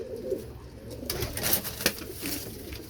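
Rampuri pigeons coo softly in a breeding loft, low murmuring calls with a few brief rustles, fairly close and without talk.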